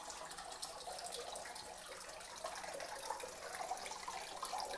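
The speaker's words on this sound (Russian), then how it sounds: "Вот такой водопадик работает, все работает." A small decorative indoor waterfall in a winter garden, running as a soft, steady trickle and splash of water, close but quiet, with no talking.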